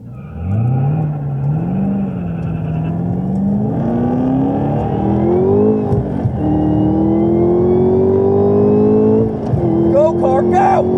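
A 2018 Chevrolet Camaro ZL1 1LE accelerates hard in a half-mile drag race, its pitch climbing through several gear shifts, loud and close, with shouting voices toward the end.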